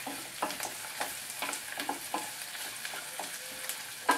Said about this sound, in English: we'll throw in the garlic